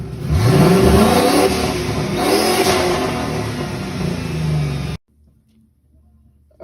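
A Ford Mustang engine with a newly installed turbo revs hard up and down for several seconds, loud and close with rising and falling tones, then cuts off abruptly into near silence.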